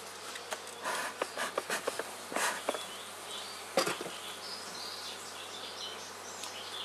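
A steady, close buzz of many bees in an open hive during an inspection, with scattered sharper ticks and knocks of frames breaking through now and then; no one speaks.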